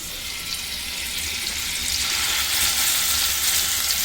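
Chicken kebabs fry in butter mixed with oil over medium flame, giving a steady, loud, hissing sizzle that swells slightly in the second half, close and without talk.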